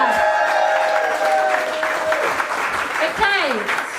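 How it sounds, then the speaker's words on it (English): A poetry slam audience claps and cheers loudly, with whoops and raised voices mixed into sustained applause, and people calling out over it. "Big cheer for Celeste."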